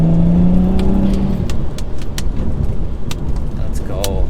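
A BMW 135i accelerates hard on a wet road in the rain with traction control off, its engine rising in a deep drone alongside tire hiss and spray and some brief clunks.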